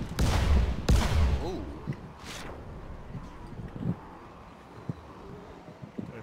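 Gunfire from the zombie survival video game Dying Light, a couple of sharp loud shots early on followed by scattered fainter bangs and impacts, with a voice talking over the action.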